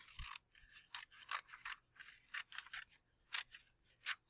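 Scissors snipping through a notebook page, a close series of crisp irregular crunchy cuts with short pauses, quiet and alone.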